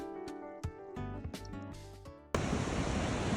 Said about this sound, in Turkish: Burası Norveç'in 5. büyük şelalesi.